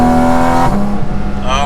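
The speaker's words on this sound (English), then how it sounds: "you can just hear so much character to this engine, and you know it just wants to rip" A Porsche 718 Cayman GT4 RS Weissach's high-revving engine sings loudly from inside the car on the move, its tone holding steady and then shifting down as the revs drop.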